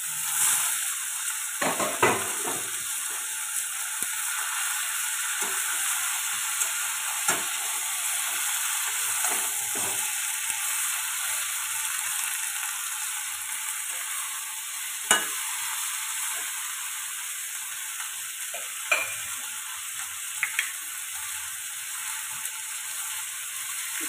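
Green chillies and flat beans fry in a pan with a constant hiss and sizzle, while a spoon scrapes and stirs at irregular moments.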